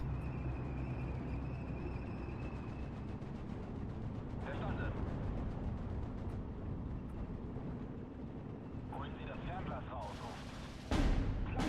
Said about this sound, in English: Oh no, the mortar fire.